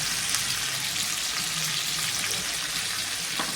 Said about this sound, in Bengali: এবার আমি এই তেলেই আমি ডিমের আলুটাও ভাজতে দিয়ে দেব